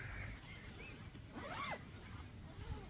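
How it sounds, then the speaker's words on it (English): A zipper on a lightweight one-season summer sleeping bag, the Oex Roam 100, is pulled up in one quiet, smooth zip, close and soft against a faint background hiss. "So as you pull the zip up, like that, it covers the zip there."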